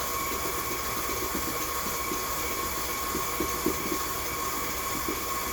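An electric mixer beats vanilla layer cake batter at high speed, giving a steady, continuous whirring hum with a faint high whine and light rhythmic churning throughout, no voices over it.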